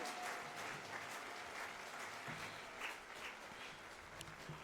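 Applause from a church congregation at a Pentecost charismatic renewal gathering in Martinique, a steady, fairly distant patter of many hands clapping that swells and ebbs slightly throughout.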